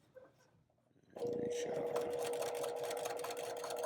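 A sewing machine stitches a quarter-inch seam on a quilt with a regular quarter-inch presser foot, starting abruptly after a quiet moment and running as a fast, steady whirring hum, close up.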